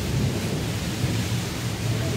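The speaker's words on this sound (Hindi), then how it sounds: "बहुत तेज बारिश हो रही है," Heavy rain pouring steadily with low thunder rumbling underneath during a sudden downpour in Aligarh, a dense continuous wash of noise with no talk over it.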